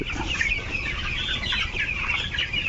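A dense chorus of chickens clucking and chattering continuously in a poultry shed, many birds close together, steady and busy throughout with no talking.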